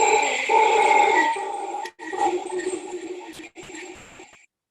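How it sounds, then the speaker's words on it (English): A howler monkey calls with a deep, droning roar in several long, breathy bursts separated by brief breaks, loud and alone. "And that noise was A, the howler monkey."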